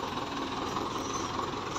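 A farm tractor's diesel engine runs at a steady idle on a wheat field in Punjab, making a continuous, rapid knocking rumble that stays even and close throughout.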